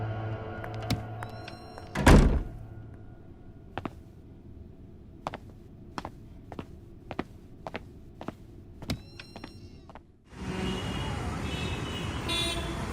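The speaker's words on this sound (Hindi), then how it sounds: "जाते वक्त दरवाजा बंद कर देना।" A door is shut indoors with one heavy, solid thunk, followed by a run of faint, evenly spaced ticks and then a steady wash of noise.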